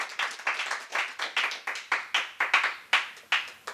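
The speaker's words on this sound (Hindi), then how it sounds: "एक बार जोरदार तालियां सुनील ठाकुर जी के लिए" An audience claps for a speaker at an in-person training session, a quick run of sharp, evenly spaced claps close by with no voices over them.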